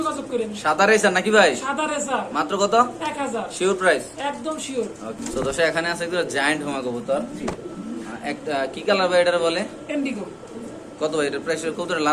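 Pigeons, including white racers, coo softly beneath people talking close by, one pigeon breathing hard.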